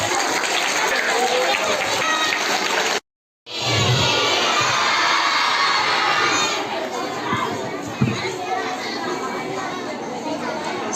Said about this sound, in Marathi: सर्वप्रथम टाळ्यांचा कडकडाट झाला पाहिजे